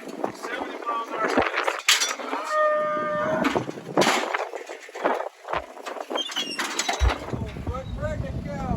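Cattle moo several times in a pen during pregnancy testing of cows in the Black Hills, drawn-out calls amid clanking metal gates, shuffling livestock and people talking nearby.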